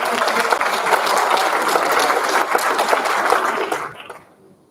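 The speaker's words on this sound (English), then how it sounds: "let's get a round of applause for our elementary." A crowd claps steadily for a few seconds, dense and fairly loud, then the applause tapers off and fades out.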